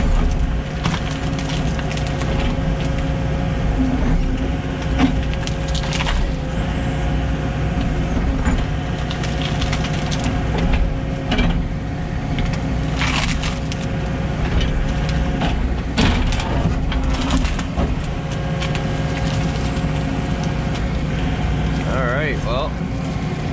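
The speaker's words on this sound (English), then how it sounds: "Try to break some of these roots off so it's easier to get into the dump truck." An SY95 excavator works close by, breaking off tree roots to load a dump truck: a steady loud diesel engine drone with intermittent creaks, cracks and woody snapping over it, with no speech.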